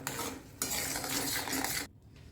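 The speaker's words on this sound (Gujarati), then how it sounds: "મિશ્રણને બરાબર હલાવી દઈશું." Bottle gourd and paneer are stirred through gravy in a pan, a continuous wet scraping and sloshing of the spoon for about two seconds before it stops, with no talking.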